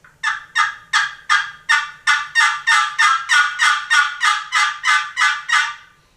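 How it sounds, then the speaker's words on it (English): A Primos box call for turkey hunting sounds a quick run of about fifteen raspy, evenly paced clucks and yelps, close and loud, with no voices present. "when you mix those clucks in with yelps"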